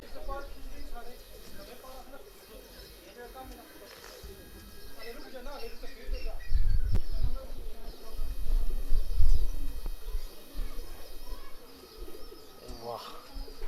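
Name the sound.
pigeons cooing on a rooftop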